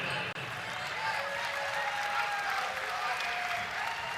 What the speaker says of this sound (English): Nice round of applause for her.